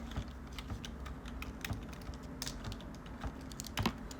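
Soft, rapid clicks of typing on a computer keyboard come in uneven bursts, close by and fairly quiet, with no talking.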